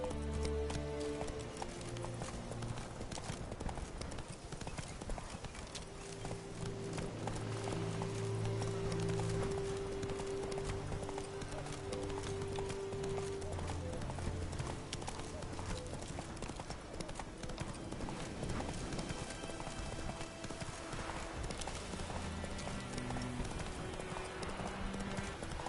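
A horse gallops in the video game The Witcher 3, its hooves drumming in a fast, continuous clip-clop rhythm throughout, loud and close, over game music and ambience.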